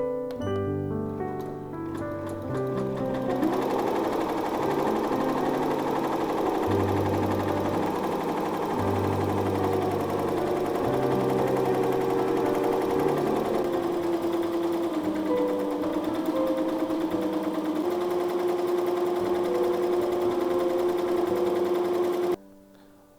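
An embroidery machine stitches a design onto a T-shirt, a fast steady mechanical chatter with a humming motor that runs continuously, close and loud, then stops abruptly at the end.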